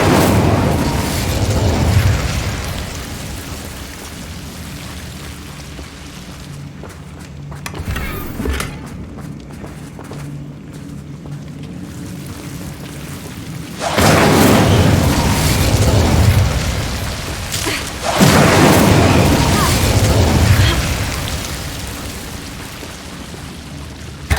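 Bombarda and Incendio spells in Hogwarts Legacy burst loudly in two heavy, rumbling blasts, each trailing off into crackling debris, with a quieter stretch of game noise between them.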